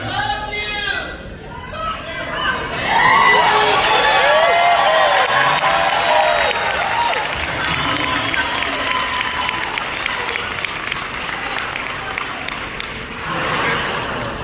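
An audience at a founder's celebration and retirement event applauds and cheers, a dense crowd sound with some shouting and chatter mixed in, rising after a quieter start and holding steady.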